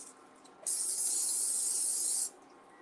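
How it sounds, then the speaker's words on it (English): Olive oil spray hisses onto a cold pan on a cooktop in one steady, loud burst lasting about a second and a half, with quiet kitchen room tone before and after. "I'm going to go ahead and spray it with olive oil while it's cold"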